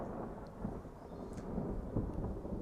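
Distant thunder from an approaching storm rolls as a low, continuous rumble with no clear peaks, steady and moderately quiet throughout, with no voices.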